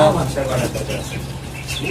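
Pigeons in a loft give a steady low cooing that runs through the whole stretch, while someone talks over it close by.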